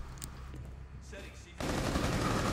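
Rapid automatic gunfire from a first-person shooter video game breaks out in a dense, loud burst after a quieter stretch of softer game sounds and scattered shots.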